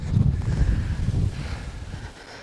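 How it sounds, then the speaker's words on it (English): Wind gusts across a hilltop outcrop on a Taiwanese hiking trail, buffeting the microphone with a rough, close rumble that eases off after a couple of seconds. "This wind is a nice break."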